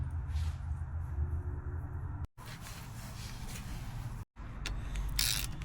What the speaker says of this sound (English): Just want to make sure to get these bolts nice and tight.